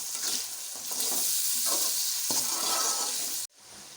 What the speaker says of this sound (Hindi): अब इस मसाले में हम टमाटर डालेंगे और हरी मिर्चें और इसको अच्छी तरह स्टर कर लेंगे।